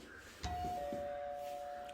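A doorbell chimes once indoors, a sharp strike followed by a long sustained ringing tone that holds steady to the end, fairly loud against a quiet room.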